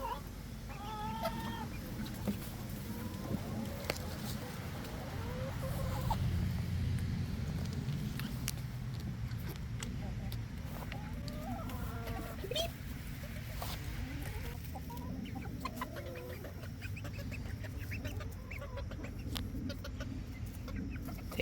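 Chickens cluck and murmur close by in a steady stream of short calls, with scattered rustling and faint voices in the background.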